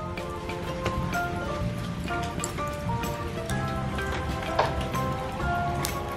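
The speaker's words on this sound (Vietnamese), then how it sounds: "Mới 12 giờ trưa mà nó đổ mưa rồi." Heavy rain falls at midday, pattering steadily in a dense spread of drops with scattered sharper taps from drips landing close by, the sound holding even throughout.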